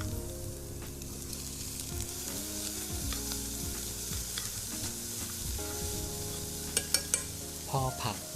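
Vegetables stir-fried in a pan for fried instant noodles with egg, a steady close sizzle broken by scraping stirs and a few sharp clatters near the end, with no talk.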